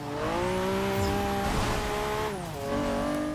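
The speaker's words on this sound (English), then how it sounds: "Get some drifting in there." Tyres squeal loudly as a Honda NSX drifts through a corner in the racing game Forza 6, a sustained screech layered over the engine's steady droning tone, which dips and then rises again near the end.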